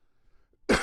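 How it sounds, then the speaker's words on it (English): A single loud, close cough bursts out after near silence, harsh and breathy, from one person indoors. "I have to cough."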